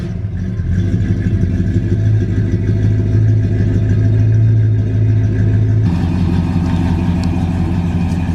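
A 1963 Mercury Meteor's engine runs steadily at close range, a deep, loud, continuous idle with a rough throb that shifts slightly in tone partway through.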